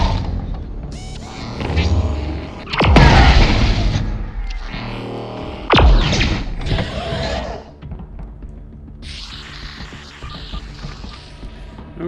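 A grenade blast in the VR game Arken Age: two loud broadband booms land a few seconds apart amid clanking creaks and mechanical clatter, then give way to a quieter hissing, humming tail.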